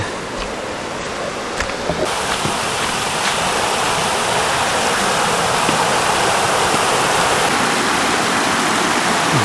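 The Aire River in the Otways forest, Victoria, flows loudly and continuously, a dense steady roar of rushing water with no pauses or voices.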